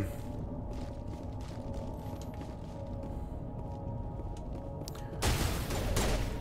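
Gunfire in the video game Mass Effect, a steady mechanical hum through most of the stretch before a dense burst of rapid shots erupts near the end, loud and close, with no talking.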